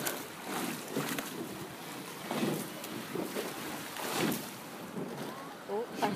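Rowing a boat on open water, with wind buffeting the microphone and soft splashes from the strokes recurring every second or so under steady water and wind noise.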